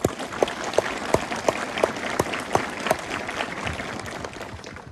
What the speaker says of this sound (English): Let's have a round of applause for the team.